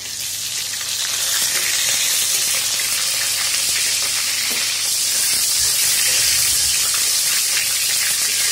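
Garlic sizzles loudly in a hot pan in a village kitchen, giving a steady, bright frying hiss that runs unbroken throughout with faint stirring crackles.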